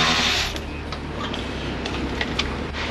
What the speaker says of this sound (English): Just going to back out this bolt.